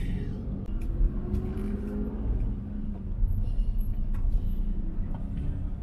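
Heavy road traffic rumbles along Aguinaldo Highway in Dasmariñas, a continuous low roar of cars and larger vehicles passing close by, with brief hisses from air brakes.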